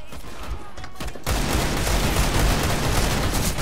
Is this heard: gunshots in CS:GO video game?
yes